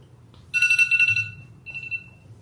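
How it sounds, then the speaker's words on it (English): A timer alarm sounds at an evening arts event panel, a loud electronic ringing burst of rapid beeps that stops, followed by a fainter short repeat, over a low room hum. "Oops, that's my timer."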